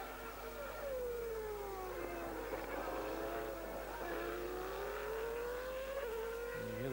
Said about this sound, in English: And you hear the traction control, very high degree of traction control being used here.